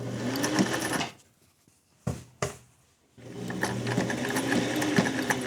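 A sewing machine runs in close, steady bursts while stitching fabric with monofilament thread, then stops for a moment with a couple of sharp clicks before racing again to back stitch.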